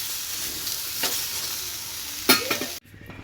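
Green chillies frying in hot oil in a home kitchen, a steady soft sizzle with a couple of sharper stirring scrapes before the sound cuts off abruptly.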